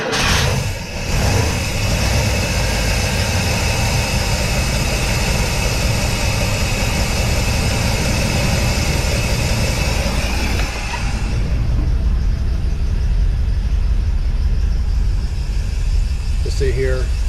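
International Scout engine with FiTech EFI idles after a cold start on a freezing day, a steady close rumble running throughout, its tone dropping and thinning partway through.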